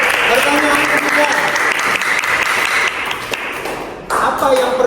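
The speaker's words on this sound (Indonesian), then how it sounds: "Tepuk tangan untuk abang Viko." Students in a classroom clap in a dense burst of applause, loud and near, with a teacher's voice speaking over it.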